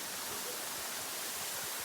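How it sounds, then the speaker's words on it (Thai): A waterfall pours in a constant, dense hiss of rushing water, steady and fairly loud with no breaks, filling the background with no voices. "ดูน้ำตกนะครับทุกคน"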